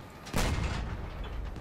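A single booming gunshot goes off in a vehicle combat video game, a sharp blast followed by a rumbling decay over about a second and a half.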